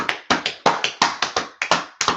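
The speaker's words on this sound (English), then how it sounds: "Clap it up for them." An audience claps in a steady, quick rhythm of about three claps a second, each burst sharp and fairly close, with no voices over it.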